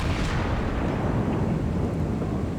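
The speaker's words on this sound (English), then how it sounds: "I send shells his way, ignoring the Izumo for now." Heavy battleship guns firing shells in a naval combat game, a dense, loud rumbling boom that fills the whole stretch without a break, no voices.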